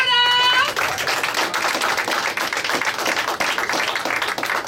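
Applause for comedian John Perrotta at a tavern comedy show, where a broad wash of steady clapping from the audience fills the room and holds loud and continuous throughout, with a brief tone at the very start.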